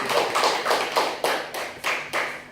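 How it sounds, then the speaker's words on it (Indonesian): A congregation at an Indonesian-language Christian evangelistic service claps together in a steady rhythm, about seven sharp, evenly spaced group claps, close and fairly loud with no voices. "Tepuk tangan dulu untuk Tuhan kita"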